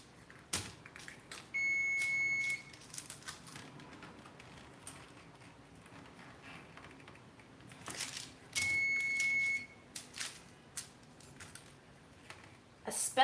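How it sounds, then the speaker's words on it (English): Electronic kitchen timer beeping while mooncakes bake, two separate bursts of steady high-pitched repeated beeps, each about a second long, set over a quiet room with light handling sounds. "you're gonna have to listen to that beep for a little while longer"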